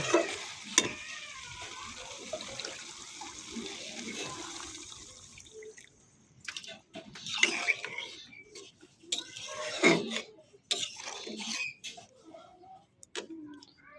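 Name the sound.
prawn curry sizzling while being stirred in the pan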